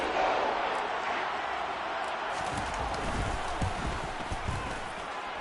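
A stadium crowd roars steadily after a touchdown in the Madden 23 American football video game, a dense, even wash of cheering with faint voices mixed underneath.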